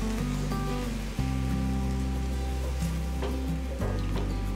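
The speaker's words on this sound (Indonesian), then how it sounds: "Setelah bumbunya matang dan berbau harum, kita masukkan air." Water poured into a pan of sautéed spice paste for Indonesian soy-sauce grilled chicken, giving a steady close sizzle and bubbling with low hum and a few brief clinks, no talk.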